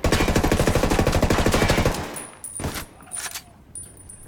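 Automatic rifle hip-fired in the Ghost Recon Wildlands video game, a loud rapid burst of shots for about two seconds, followed by a few scattered shots, clinks and faint echoes as it trails off.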